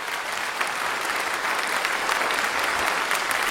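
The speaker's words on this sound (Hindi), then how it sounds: "हाथ ऊपर करो, ताली बजाओ।" An audience at a spiritual talk claps with raised hands, dense continuous applause that stays loud and even throughout with no pauses.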